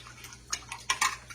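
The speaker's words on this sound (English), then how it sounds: "I'm going to pour off some of that water and put a little milk in it." Boiled potatoes in a pot, with clinks and scrapes of the metal pot and lid and light splashing water as it is tipped off, close and sparse.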